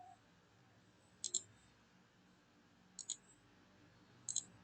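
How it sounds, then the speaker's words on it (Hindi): Three short, crisp computer mouse clicks while a thumbnail is being designed online, each a quick double tap spaced about a second and a half apart over a low, quiet room hiss, with no talking. "फिर आप इसे क्लिक कीजिए।"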